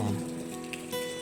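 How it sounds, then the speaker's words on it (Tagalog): Steady light rain keeps falling during flooding as floodwater rises in the Philippines, a soft, even patter and hiss at low volume, continuous and unbroken, with no voices over it. "Medyo naulan pa din po."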